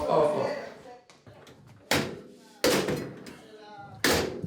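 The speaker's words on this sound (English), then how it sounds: "I had to close the door." Door closing several times in a tense indoor setting, sharp slams and knocks each followed by a fading rumble, with people talking loudly between the impacts.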